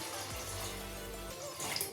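Water poured into kadhi batter made with garlic-onion paste and spices, a steady close-up gush and trickle with no voices.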